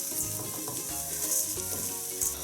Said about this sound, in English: toasting them in here with some olive oil